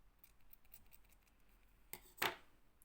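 Scissors cut thread for needle lace, one crisp, close snip standing out against a faint background with light handling noise before it.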